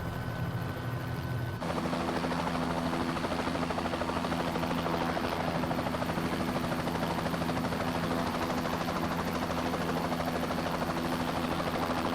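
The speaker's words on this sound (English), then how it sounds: "See how she lands here." A Bell 206 JetRanger helicopter landing gives a loud, continuous turbine whine with steady rotor buzz that shifts in tone early on, then holds close and unbroken.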